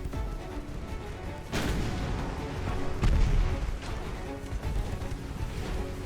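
Naval gunfire from warships in the Ultimate Admiral Dreadnoughts video game rumbles continuously, with heavy booms landing over a dense roar of battle noise and no talking.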